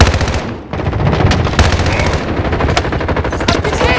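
StG 77 rifle in Modern Warfare 2019 on PS5, firing loud, dense automatic bursts of rapid shots almost nonstop, close and punchy, with a brief dip near the start.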